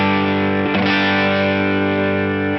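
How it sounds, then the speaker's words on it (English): An electric guitar on its bridge hot rail pickup plays through a California Tweed amp, producing a sustained, slightly pushed, distorted chord that rings loud and steady, with a brief scrape near the start and a sudden cut at the end. "This is on the bridge hot rail through the California Tweed."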